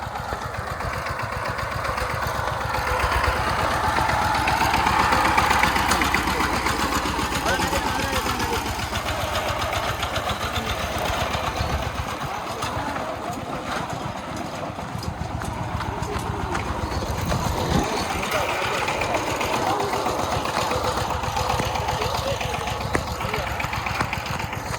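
A tractor engine runs steadily as it drives through a village, a continuous rumbling, chugging drone that stays close and fairly loud throughout, with voices talking over it.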